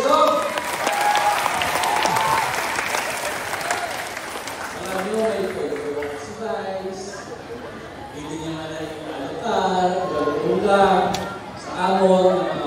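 Applause for a Vice Governor at a Philippine district gathering rises loud at the start and fades within a few seconds, giving way to someone speaking over a microphone as crowd chatter continues behind him.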